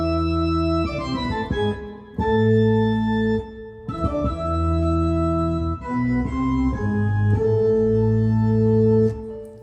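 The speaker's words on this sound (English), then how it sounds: "I like to use the organ around Halloween because you might have heard part of this very famous song called Toccata and Fugue" Church organ plays the famous Toccata and Fugue, loud sustained chords and descending runs with full bass, several phrases separated by brief pauses, no voices.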